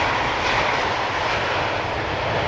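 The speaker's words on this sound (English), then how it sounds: "Cargolux, operated by Cargolux Italia, arriving from Nairobi." Cargolux cargo airplane arriving from Nairobi at Amsterdam Schiphol Airport, a loud, steady roar of jet engines close by with a broad rushing tone, heard alone with no talking.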